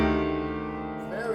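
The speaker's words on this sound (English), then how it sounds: "these diminished sevenths that sound like this." Sustained piano chords from a Beethoven slow movement, dark dissonant diminished sevenths held and ringing for over a second, with a new chord struck near the end, played alone at moderate loudness.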